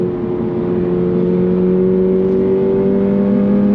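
A 2024 Subaru BRZ tS sports car pulls hard toward redline, its engine note a loud, sustained, steadily rising drone with strong harmonics, heard close and without any talk.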